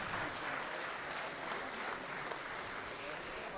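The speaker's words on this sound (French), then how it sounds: "On les applaudit." An audience at a Swiss robotics competition claps for a team, a steady, moderately quiet patter of many hands that continues evenly throughout.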